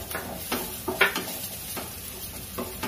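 Garlic frying lightly in a pan, a soft sizzle under a few scrapes and taps of a spoon stirring, close and moderately quiet.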